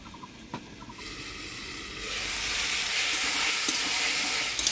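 Ridge gourd and potato sizzle in hot oil with spices while being stirred, a few soft scrapes at first, then a louder steady frying hiss with no speech.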